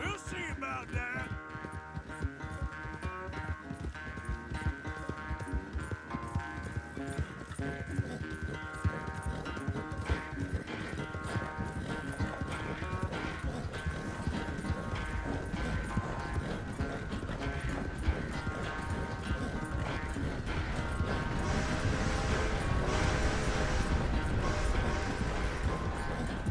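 Horse hooves gallop steadily while riding in Red Dead Redemption 2, a continuous rhythmic clatter layered under a loud game music score for the whole stretch.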